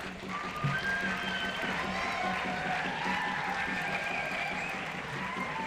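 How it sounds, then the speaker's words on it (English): Applause and crowd noise from guests and participants at a Sports for Change national youth competition in Nagpur, a steady wash of clapping with excited voices mixed in, sustained through the whole stretch. "Can we have a huge round of applause?"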